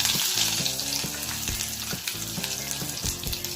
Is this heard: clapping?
no